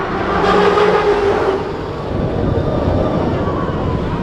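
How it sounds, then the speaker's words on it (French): A recent Intamin roller coaster with an LSM launch fires off, producing a loud, steady roar of rushing train rumble that swells early on and then holds as a dense, continuous rush. "Les Intamin à LSM récents font beaucoup plus de bruit."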